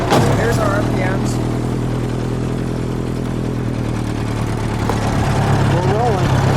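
The engine of a 1913 Bugatti Type 22 runs at a steady, loud drone with a throbbing low hum while someone talks over it close by.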